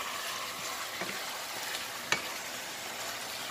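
Chicken stir-frying in a pan with onion, garlic and nuts, a soft, steady sizzle with light stirring scrapes and one sharp clink partway through, no voices.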